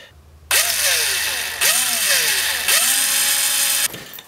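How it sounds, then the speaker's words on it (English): A power drill bores a hole into a small pressure washer jet nozzle, its whining motor revving up and down in three loud bursts with brief pauses between them. "drill a hole as far as you can sort of go"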